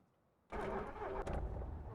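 A car engine in the Indiana Jones and the Great Circle video game cranks and catches abruptly, then settles into a steady loud running rumble with a brief rev.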